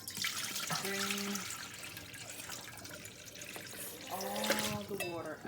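Water splashes and runs steadily into a sink as soaked sea moss is drained through a strainer, with a voice talking briefly over the pouring.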